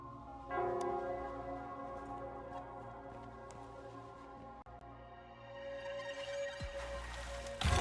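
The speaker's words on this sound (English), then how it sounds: "The bell sounds closer now." A bell rings in the Wuthering Waves video game, its resonant sustained tones hanging over a soft rain-like hiss and swelling louder near the end.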